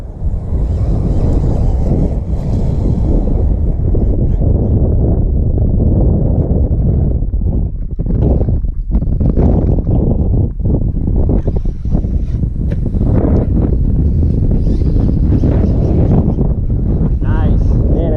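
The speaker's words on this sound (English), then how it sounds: "that wind's kicking up." Strong outdoor wind buffets the microphone in a steady, loud roar across a blacktop lot where an RC car is driven on a ramp, with brief gusty dips and surges throughout.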